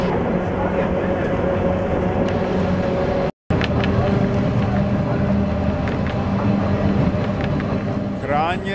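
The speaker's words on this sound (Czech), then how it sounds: "Posun s pracovním vlakem." A work train shunting on the Isle of Man electric railway gives a steady, loud mechanical rumble and hum throughout, broken by a brief dropout partway.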